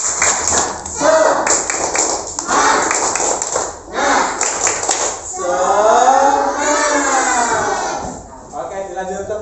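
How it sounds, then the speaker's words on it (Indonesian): A classroom group does tepuk semangat, a rhythmic clapping cheer, with bursts of patterned claps alternating with chanting voices and a teacher's talk, loud and close in a classroom setting. "mari kita tepuk semangat dulu ya"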